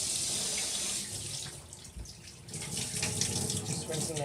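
Cold tap water running into the tank of a Bissell 3624 Spot Clean Professional portable carpet cleaner as it is rinsed in a sink, a close, steady gushing stream that dips briefly midway, with no talking.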